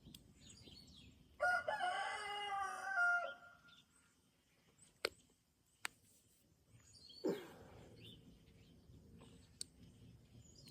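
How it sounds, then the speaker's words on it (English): A rooster crows once nearby, its call loud and drawn out, followed by quiet background with a few sharp clicks and a faint second call. "I'm gonna kill that chicken."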